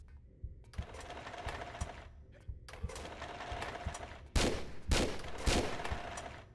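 Gunshots in Tomb Raider III, a series of sharp close shots with rattling bursts, some spaced apart and a few louder blasts toward the end, with no talk over them.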